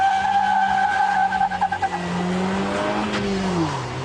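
A Suzuki Liana with a replaced gearbox and clutch drives hard on a track, its engine note rising and then falling as the tyres squeal in long drawn-out skids, heard from nearby.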